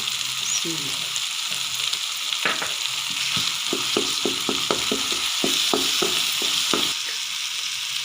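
Homemade cream stirred into a sizzling brain fry masala gives a steady hiss with a rapid series of sharp spoon scrapes and taps against the pan, close and fairly loud, with no talking.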